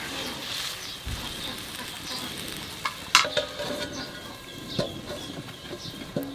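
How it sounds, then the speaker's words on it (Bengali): Magur catfish being sautéed with spices in a pan, a soft continuous sizzle with occasional stirring clinks and scrapes, one sharper knock midway, steady and close with faint background noise. "মশলার সাথে মাছটা একটু কষাই নিলাম"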